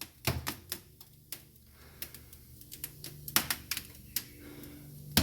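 Removed sound deadening material from an EG Civic cracks and pops on its own, giving quiet, irregular sharp clicks and snaps scattered over a low background hiss, with no voices.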